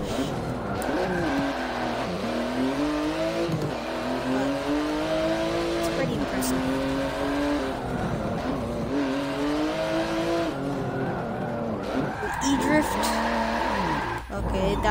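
Race car engine in Forza Motorsport 7 gameplay, rising and falling through repeated gear shifts with loud revving and tire squeal, close and continuous across the whole stretch.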